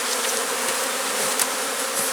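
Honeybees being shaken from a hive cutout into a box give off a dense, continuous close buzz with no voices.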